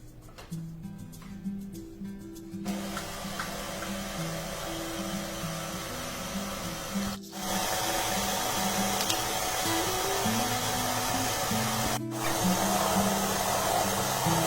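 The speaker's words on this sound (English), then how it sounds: "Now mix everything at low speed." Stand mixer kneading savoury scroll dough at low speed, a steady loud motor drone with a rhythmic churning hum that runs throughout, with one brief dip partway.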